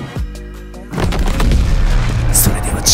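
Gunfire in Call of Duty WWII booms loud and close in a dense burst with heavy low rumble and sharp cracks, after a brief low hum at the start.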